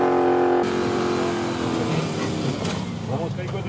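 A street legal locker class 4x4 off-road vehicle climbing an incline at a national 4x4 challenge, engine revving loudly then the pitch dropping and wavering as it labors, with crowd noise and talk faintly mixed in.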